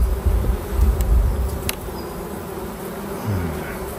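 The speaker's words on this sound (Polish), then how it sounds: "No pszczół jest trochę." Steady buzzing of many bees around a hive close by, a dense humming swarm with a few louder passes near the start.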